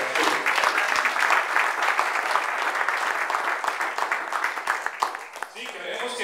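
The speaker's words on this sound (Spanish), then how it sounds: "Un aplauso a Cristo." Church congregation applauding loudly and steadily throughout, a dense wash of clapping with voices mixed in, close and full.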